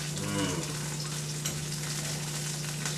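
A spoon stirs sauce in a pan beside a lemon pepper salmon dish, giving a soft sizzling scrape with a short swirl at the start and a steady hiss after, no talking.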